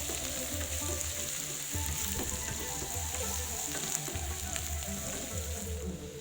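Crushed ginger, garlic, cardamom powder and cumin seeds fry in a pan, giving a steady low sizzle with faint scattered crackles and occasional stirring scrapes, fairly quiet throughout.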